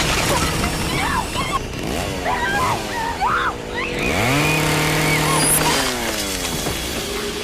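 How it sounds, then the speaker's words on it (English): A chainsaw roars in the Texas Chainsaw Massacre (2022) video game, loud and close, its engine revving up and down in repeated rising and falling surges with a long sustained whine in the middle, mixed with game voices and clatter. "that chainsaw sequence is a little too Mortal Kombat-y"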